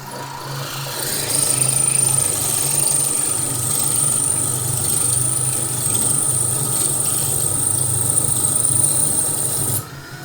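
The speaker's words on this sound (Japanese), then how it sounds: "とりあえずこの舐めちゃってるネジは揉んでしまいましょう" A tap turns into a stripped number 6 screw hole on a cheap Chinese junk motherboard, cutting new threads with a steady close grinding and scraping rasp. It runs continuously with an electrical whine above it, then stops abruptly near the end.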